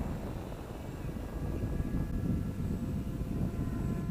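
An X8 RC model airplane, a Bixler-style foam flyer, cruising at one-third throttle, giving a steady droning motor hum with some wind rumble, moderately distant and continuous with no talking.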